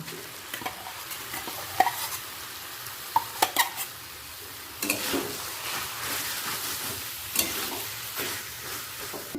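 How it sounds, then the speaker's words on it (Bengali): Minced chicken frying with onion and tomato, a steady close sizzle with scattered clicks and scrapes from stirring across the whole stretch. "পেঁয়াজটা টমেটোর সাথে দু মিনিট ভাজা হয়ে গেছে এরপর দিয়ে দেব রেস্টে রেখে দেওয়া কিমা"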